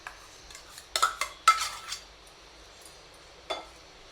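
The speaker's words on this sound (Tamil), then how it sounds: "தாளித்து இப்போ வந்து தயிர் சாதத்தில் நம்ம கொட்டிடலாம்" A spoon clinks against a bowl as tempering is poured into curd rice and stirred in: a few sharp, quiet clinks and scrapes spaced apart, with no talking.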